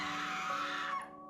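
A sustained, piercing scream from a horror visual novel video game rings out loudly for about a second, then cuts off abruptly into near silence.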